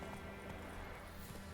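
Roach, the horse in the video game Witcher 3, gallops in a short burst of quick hoofbeats over a steady game backdrop, fairly near, with a voice speaking.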